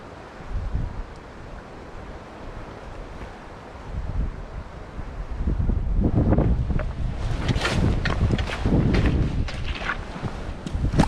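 Cold winter wind gusts by a trout river in Western North Carolina, buffeting the microphone with a rumbling roar that grows stronger midway, with flowing water beneath.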